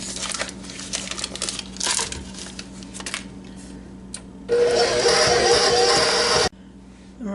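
A mixer creams butter for Swedish butter cookies, giving a steady, fairly loud whirring burst of about two seconds midway through, after quieter clicks and rustling.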